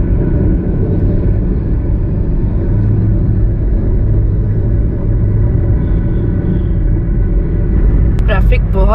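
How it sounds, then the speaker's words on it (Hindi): A car drives along a busy motorway in heavy holiday traffic, with a steady loud road rumble and engine drone filling the cabin throughout and a brief higher chirp near the end. "ट्रैफिक बहुत मिल रहा है मोटरवे के ऊपर, बहुत रश है"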